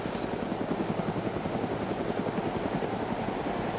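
Steady, loud helicopter rotor thumping in the video game DayZ throughout, a continuous rhythmic chop with engine drone and no other sounds.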